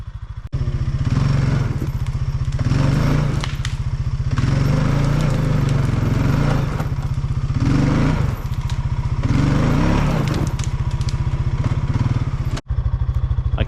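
An ATV four-wheeler engine drones loud and steady up close, straining as it pulls on a rope tied around a big tree limb, with a few surges in revs before it cuts off abruptly near the end.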